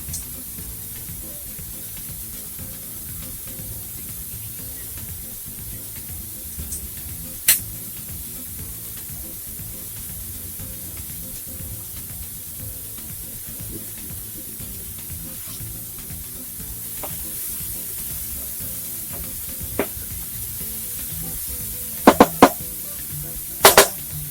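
Food sizzles in a pan with a steady, continuous frying hiss, broken by a few sharp clicks near the end.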